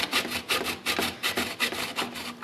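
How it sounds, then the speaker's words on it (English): Chocolate scraped over a grater for Italian bocconotti cookies, a quick run of close, rough rasping strokes in an uneven rhythm, with no one speaking. "So grate your chocolate."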